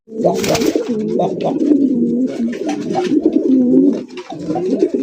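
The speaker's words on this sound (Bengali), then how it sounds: "আরো এক জোড়া কালারিং রাসগোল্লা কবুতর" Colouring rasgolla pigeons coo continuously, close and loud, in rolling, overlapping throaty calls with short pauses between phrases.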